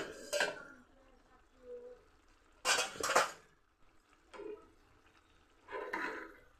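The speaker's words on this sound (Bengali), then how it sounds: "2 মিনিট পর ফিরে এসে আমি ঢাকনাটা তুলে দিচ্ছি।" A metal lid clinks and scrapes as it comes off a pot where cauliflower has been simmering covered in its own water, several short metallic knocks and rattles spaced across the moment, close and fairly quiet with no talk.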